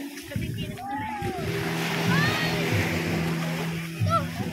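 Rising high-tide seawater splashes and washes against the shore in a steady, close rush with brief surges, while people talk over it.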